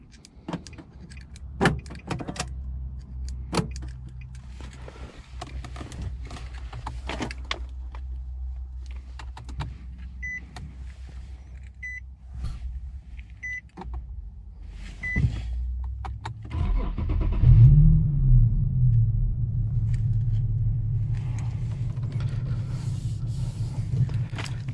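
A 2010 Infiniti G37S sits parked while small clicks and cabin sounds come first. Around the midpoint the engine cranks and catches, then settles into a steady, close, low rumbling idle that continues to the end.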